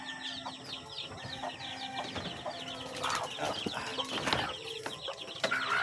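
Hens cluck and chatter repeatedly at close range, with scattered bird calls and rustling in the background.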